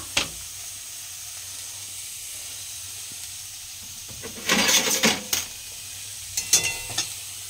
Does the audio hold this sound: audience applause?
no